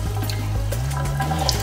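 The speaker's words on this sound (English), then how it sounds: "Then using cold water, we're just going to kind of like put some water through the hair." Cold tap water running and pouring through a bundle of deep wave curly hair, a continuous close gushing splash from a faucet.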